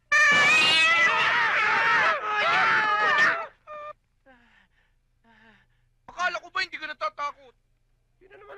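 A startled house cat lets out loud, drawn-out wailing meows over the first few seconds, then quieter, shorter mews follow after a pause, ending in a quick burst of small cries.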